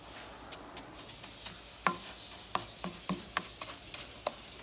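Rice toasts in a pan for Spanish rice, giving a faint background sizzle broken by a series of light scraping and tapping stir strokes at irregular intervals.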